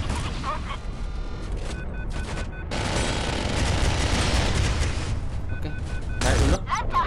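Heavy booming cannon fire and rapid gunfire from a naval game battle involving a CN Type 004 aircraft carrier, dense and continuous, with a voice speaking over the din.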